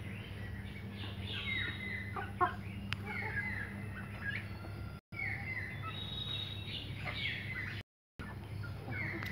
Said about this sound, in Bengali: আমার খামারের ভিতরে এখানে অনেক জাতের মুরগি এবং হাঁস আছে